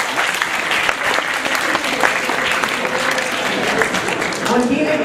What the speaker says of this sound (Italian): Applausi personale.